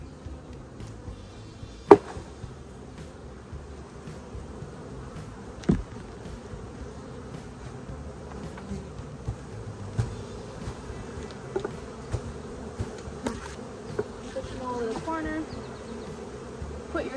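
Honeybees swarm and buzz around a hive frame lifted during a beekeeping check, a dense steady drone with occasional sharp knocks and clicks, close and fairly loud, with no talking.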